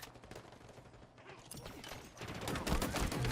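Gunfire and a fusion coil explosion in a sci-fi shooter video game battle, with dense crackling shots that build louder toward the end of the stretch.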